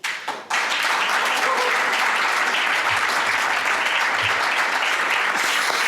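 An audience at a political party event breaks into loud, sustained applause after a brief opening sound, with dense clapping continuing steadily to the end and no clear talk over it.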